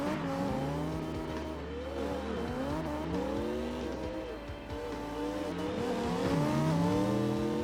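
A race car's engine roars inside the cockpit during a slidestyle drift run, loud and continuous, pitch rising and falling as the revs climb and drop, with tire squeal mixed in throughout.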